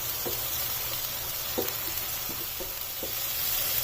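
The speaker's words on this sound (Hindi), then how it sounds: "अब प्याज को इसमें लाइट गोल्डन ब्राउन कर लेना है" Onions sizzling and frying in a pan with oil for mutton jalfrezi, a steady soft hiss throughout with a few faint stirring clicks, close by and with no talking.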